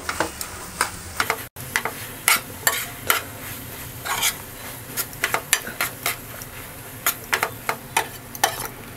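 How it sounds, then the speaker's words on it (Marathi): A spoon scrapes and taps repeatedly against a pan while mawa, jaggery and grated coconut are stirred together for karanji filling, with faint sizzling underneath and no talking. "तर मावा, गूळ आणि खोबरं एकजीव करून घ्यायचं आहे."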